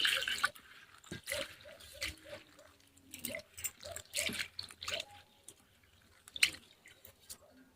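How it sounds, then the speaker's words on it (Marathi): Dal lentils are rinsed in clean water in a home kitchen, with faint swishing, soft drips and small splashes in quiet, uneven bursts, close by and without talk. "स्वच्छ पाण्याने धुवून घेऊ आता आपण डाळ."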